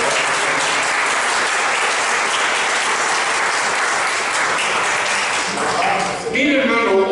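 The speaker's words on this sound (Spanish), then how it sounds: "Denle un aplauso al Señor." Loud, dense applause from a large church congregation fills the room continuously, then thins out near the end as a preacher's voice comes in.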